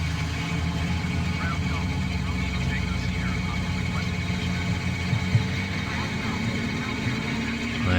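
Robinson R44 Raven II helicopter engine running in a flight simulator, a steady mid-to-low droning hum that holds evenly throughout at moderate level, with faint spoken commentary over it.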